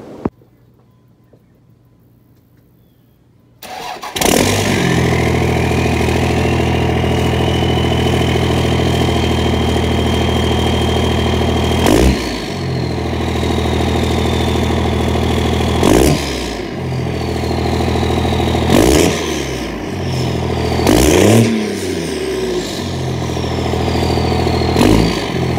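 Engine on a car with no exhaust tip, just a 4-inch straight pipe, cranks and catches after a short quiet stretch, then settles into a loud, steady idle broken by several sharp throttle revs that rise and fall, with no talking.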